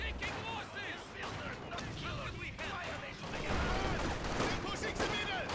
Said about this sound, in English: These guys use a rifle grenade, got them super low